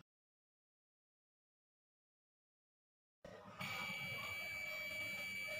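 A digital multimeter on continuity mode beeps while testing a wire for a break point: after about three seconds of silence, a steady sustained electronic tone begins and holds to the end.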